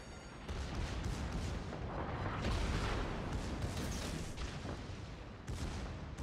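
Heavy naval gunfire and booming explosions from a World of Warships battle involving the battleship Scharnhorst, a dense continuous barrage of blasts and rumble running throughout with no talk.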